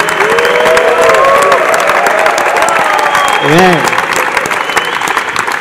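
A church congregation claps and cheers loudly and continuously, with whoops and a voice rising over the crowd, one person calling out briefly.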